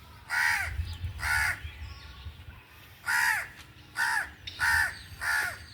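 A crow caws loudly and close by, six harsh calls in two groups with short gaps between them, and no one is speaking.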